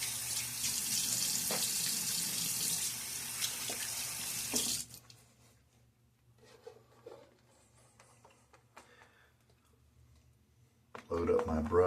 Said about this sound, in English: Splash a little water on my face.